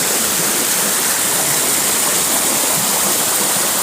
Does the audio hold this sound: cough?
no